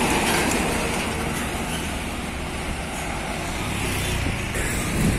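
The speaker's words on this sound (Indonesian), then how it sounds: "Ada Hino 500 kosongan" An empty Hino 500 truck rolls past in heavy container-truck traffic, a loud continuous engine and tire roar with a broad rumble that swells slightly at the end.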